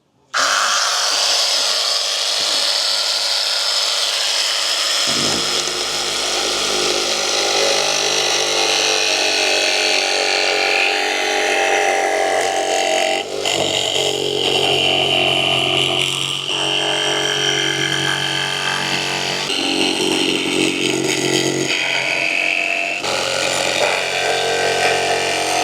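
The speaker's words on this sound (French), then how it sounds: "Donc là, je vais utiliser cette scie sauteuse. Petite scie sauteuse de chez Action." A small budget jigsaw cutting through wood, its steady buzzing drone running loud and continuous for the whole stretch, with shifts in pitch as the blade works through the board.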